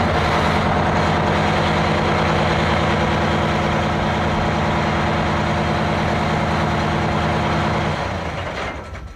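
Airport crash fire truck engine running at a loud, steady, deep diesel idle with a constant low hum, close by, then easing off and fading at the very end.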